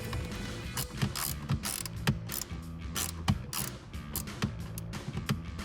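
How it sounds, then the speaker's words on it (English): Screws being driven into the instrument cluster of a 2018–2023 Ford Mustang, heard as a steady run of close, rapid mechanical clicks and ratcheting ticks with regular sharper snaps, alone with no talking. "now we're gonna screw these 4 screws in like we did when we unscrewed it"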